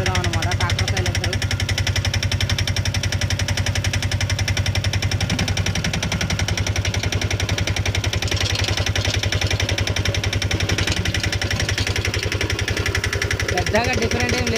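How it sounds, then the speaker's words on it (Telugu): An auto rickshaw engine with a worn bore runs close by, a fast, steady knocking putter that keeps an even rhythm the whole time. "ఇప్పుడైతే ఆటో ఇంజన్ సౌండ్ అనేది ఇలా ఉంది"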